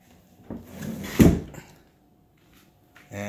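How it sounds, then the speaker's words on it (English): Sliding glass doors on an eight-foot snake enclosure shift in their track, giving a short rumbling slide with a knock near the middle, then quiet before another faint movement at the end. "And these doors move fairly easily."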